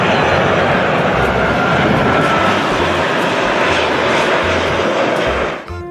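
A loud, steady roar of an airplane engine close by, holding constant before fading away at the very end.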